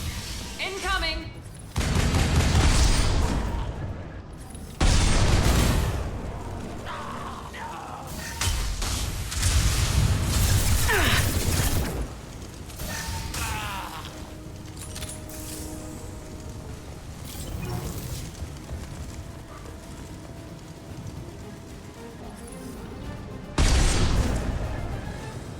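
Vorcha rockets explode during combat in the video game Mass Effect 2, with several loud, heavy blasts mixed with gunfire in separate bursts and quieter stretches between, while voices talk.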